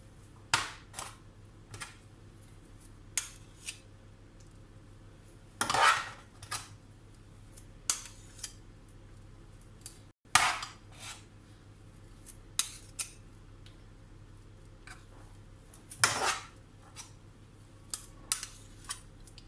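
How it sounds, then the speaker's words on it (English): Spoons dropping mashed potato into a shepherd's pie dish and scraping it off, heard as a series of short, sharp clinks and scrapes at irregular intervals, close up with no talking. "you have to spoon it into the middle, and I use another spoon just to scrape it off."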